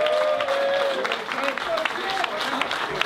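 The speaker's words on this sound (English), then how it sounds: "Big round of applause." Applause from a post-fight press conference audience after a boxing match: a crowd clapping in a steady patter under continuous nearby talk.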